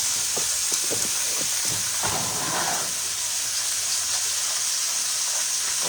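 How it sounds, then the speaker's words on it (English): A steak sizzles steadily in a hot pan after being flipped, a continuous close hiss of searing fat with a few brief clatters near the start and no talking. "let's go ahead and flip this steak. Okay. Nice little sear on that."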